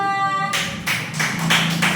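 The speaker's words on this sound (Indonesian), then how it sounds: "tepuk tangan buat kelompok dua" A few bursts of hand clapping from a small group of schoolchildren in a classroom, uneven and fairly close, following a short tone at the start.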